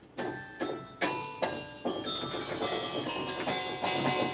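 A bright synthesized bell rings in a steady sequence of struck notes, each with a shimmering decay, clear and upfront with no voices.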